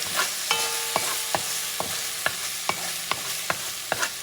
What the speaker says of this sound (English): So you're going to put some chopped onions.